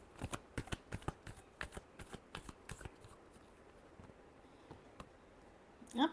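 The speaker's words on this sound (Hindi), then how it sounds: "Last shuffle." A deck of tarot cards riffled and shuffled, a quick run of light ticking card snaps that thins out into scattered faint flicks, then a louder brief rustle at the end, close and with no speech.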